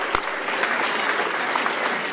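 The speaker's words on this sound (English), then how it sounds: "give her a great big round of applause" Applause for a female public-address announcer at a climate leaders summit, a dense, steady wash of many hands clapping in a large hall, sustained and fairly loud throughout with no voices over it.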